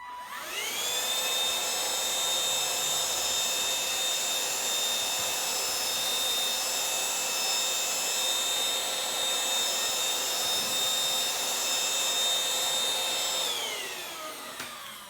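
A Silvercrest cordless cyclone vacuum cleaner from Lidl runs with its rotating bristle brush, a steady high-pitched whine with layered tonal hum that starts abruptly, holds constant for about twelve seconds, then winds down.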